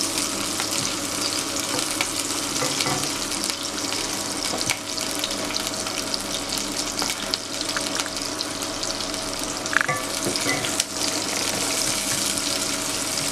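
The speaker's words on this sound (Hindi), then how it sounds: "फिर हम इसमें अनियन डाल देंगे, अनियन को भी सॉटे करना है।" Onions sauté in hot oil for restaurant-style gobi manchurian, giving a steady, close sizzle with occasional stirring and clinks and no talk.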